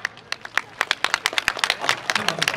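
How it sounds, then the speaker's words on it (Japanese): Audience clapping at a YOSAKOI dance festival final, with sharp, uneven claps that build in density over a couple of seconds at moderate distance. "ファイナルだからそんなに遠慮しなくていいんですよもっと拍手してください"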